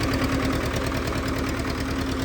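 A Zetor 1811 tractor engine runs at low throttle in a low gear, giving a steady, close diesel idle with a rhythmic knocking throb and a constant hum.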